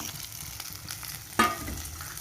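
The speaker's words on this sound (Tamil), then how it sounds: "ஓரளவு உப்பு போட்டாச்சு வெங்காயம் நல்லா வதங்கட்டும்" Salted onions sauté in a pan for a country kendai carp curry, a quiet, steady sizzle with one louder scrape of stirring partway through.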